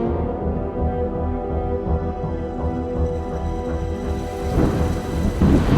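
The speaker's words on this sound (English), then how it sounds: "That thunder as it echoes through these crazy rock canyons." Deep rolling thunder rumbles continuously, booming and echoing through steep rock canyons, with a louder swell near the end and steady rain hiss underneath.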